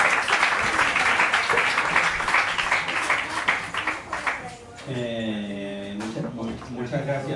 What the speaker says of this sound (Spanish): Un aplauso para Enrique, por favor.